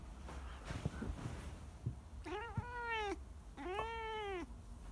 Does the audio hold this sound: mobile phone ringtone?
no